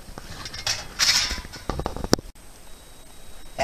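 A burner cover is unscrewed and pulled off, giving short metallic scrapes and squeaky screw-turning creaks, then a sharp clack as the panel comes free, followed by quiet room tone.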